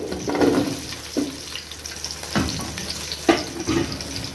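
Carrots stirred into a pot with sautéing garlic and onion for lentil soup, a soft sizzle broken by several distinct spoon scrapes and clinks, close and fairly loud with no speech.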